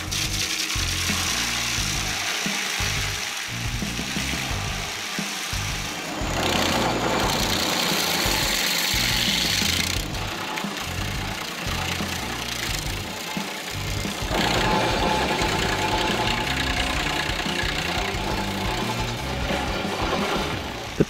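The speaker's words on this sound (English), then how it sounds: "The power of this Vortex skid steer tree stump grinder makes tree root removal simpler and faster than ever." A Vortex skid steer tree stump grinder attachment runs continuously with a rough, knocking engine drone and shifting grinding noise, loud and close, no voices.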